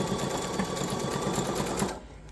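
Close, steady whirring of a sewing machine back stitching on a t-shirt drawstring bag, running continuously before stopping abruptly near the end.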